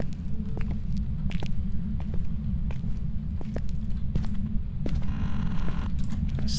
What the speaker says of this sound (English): Oh, heard a door already.